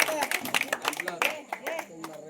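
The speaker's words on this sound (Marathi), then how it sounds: "टाळ्या वाजवा मित्रांनो टाळ्या वाजवायची" A small group clapping to cheer the winner of a traditional cashew-seed game, quick uneven claps close by, with someone speaking over them.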